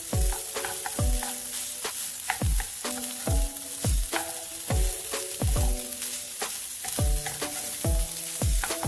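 Egg fried rice frying on high flame in a pan, with a constant loud sizzle and a regular rhythm of metal spatula scrapes and clanks as it is stirred and tossed, without any talking.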